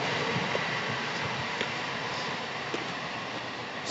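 A train passes through Hatfield station on the East Coast Main Line, a steady broad rumble and rush of wheels and carriages that fills the whole stretch, with faint clicks from the track and no voices.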